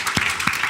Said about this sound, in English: we can make a little break now and do an applause for these people